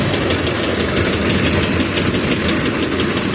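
A Massey Ferguson 30 tractor engine runs steadily and loudly up close, a continuous throbbing idle with a faint knocking rattle and no voices, holding even from start to finish.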